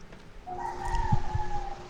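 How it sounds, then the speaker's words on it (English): A single chicken gives a drawn-out, rising vocal call in a quiet indoor setting, moderately close and alone without talk, with a couple of soft low thumps beneath it. "I heard that chicken."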